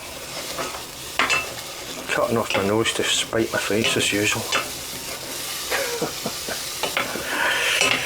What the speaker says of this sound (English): that's the mushrooms frying off